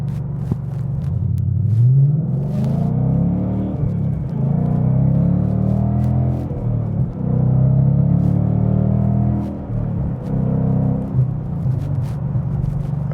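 A 2015–2017 Mustang GT with an MBRP 3-inch aluminized race-series cat-back exhaust, heard from inside the cabin as a steady, fairly quiet low rumble that swells and eases in a few waves, with no talking.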